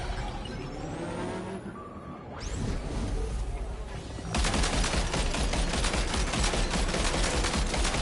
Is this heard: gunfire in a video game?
yes